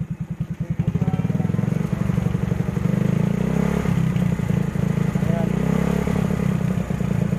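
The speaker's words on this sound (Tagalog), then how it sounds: "Ayan yung tunog sa makina" A Suzuki Raider motorcycle engine runs steadily and close by, with a rough, throbbing idle and some mechanical clatter throughout.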